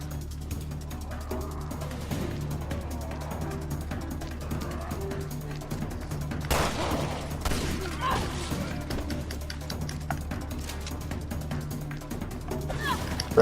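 Rapid gunfire crackles in Resident Evil Revelations 2, with bursts of mechanical clicking and rattling shots over a low, steady game background, including one sharper louder burst midway.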